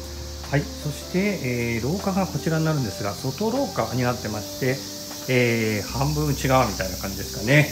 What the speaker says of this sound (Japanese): セミの鳴き声がすごいです。